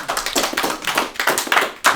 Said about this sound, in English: Clap it for myself.